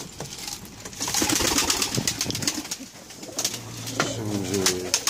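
Stray pigeons gather on a rooftop feeding spot in winter, cooing low and close amid fluttering and shuffling, with a steady mix of calls throughout.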